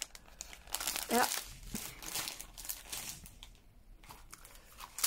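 Plastic bags from a Temu haul of storage boxes and canvas sets rustle and crinkle close up in bursts of handling, alongside a brief spoken word from a woman.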